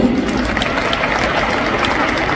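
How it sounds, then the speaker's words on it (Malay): Audience at an Amway recognition event in Kuala Lumpur and Selangor applauding, a dense, steady wash of clapping from many hands in a hall, loud and continuous throughout. "Tepukan untuk upline kami."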